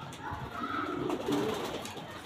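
Kaiper Matern racing pigeon from Dutch lines cooing, a soft low rolling coo lasting about two seconds, faint and close.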